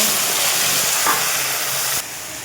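Drumstick leaves sizzle loudly in hot oil after garlic is fried, with a steady, close crackling hiss that suddenly drops quieter near the end.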